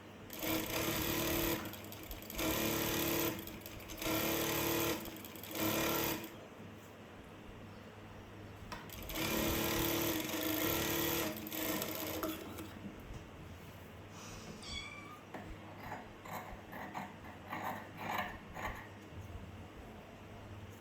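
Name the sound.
sewing machine stitching blouse fabric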